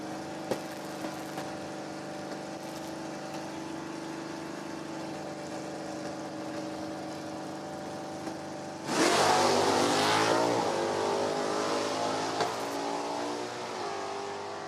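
Drag racing cars at an NHRA Division 4 event at No Problem Raceway, a Camaro among them: a steady engine drone gives way to a sudden loud roaring surge of acceleration that slowly fades.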